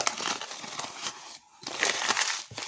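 Scrap paper gets crumpled by hand for decorating a notebook, a close, dense crackling and rustling in two bursts separated by a short pause.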